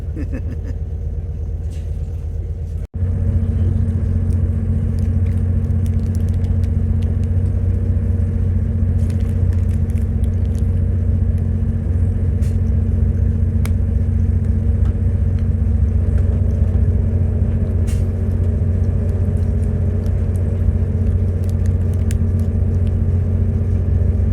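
A car rolls into Loughborough with a steady, low road rumble and engine drone that fills the cabin throughout, with no speech over it.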